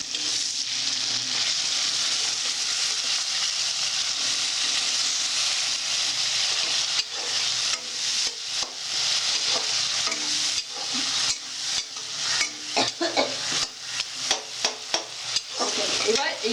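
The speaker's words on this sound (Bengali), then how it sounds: "এবার একটু নাড়তে হবে ভালো করে" Chanar dalna gravy sweetened with a little sugar fries in a pan under a steady, close sizzle, then vigorous stirring adds quickening, rhythmic scraping strokes toward the end.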